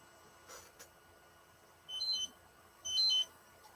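A small electronic device beeps twice in short, high-pitched bursts over quiet background hiss, with a fainter click earlier.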